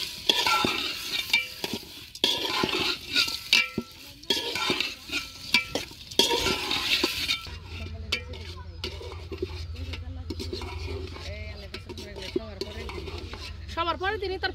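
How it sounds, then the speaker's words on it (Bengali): Cauliflower, carrot and potato stirred and fried in a pan for khichuri, with steady sizzling, clattering spoon-and-pot stirring in bursts, then a softer continuous fry with low hum and faint voices in the background. "ফুলকপি, গাজর, আলু। সবকিছু খুব ভালোভাবে কষিয়ে নিব।"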